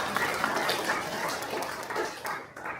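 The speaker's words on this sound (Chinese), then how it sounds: "我们拍手为你们的祷告" A church congregation applauding during a Sunday worship service, a dense and steady wash of many hands clapping that carries on for a few seconds and then thins near the end, with a little chatter underneath.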